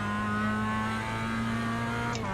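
A Mazda MX-5 Cup race car in the iRacing simulator holds a steady, loud engine drone at even revs as it drives up a hill at Oran Park Raceway, with no talk and a brief shift in tone near the end.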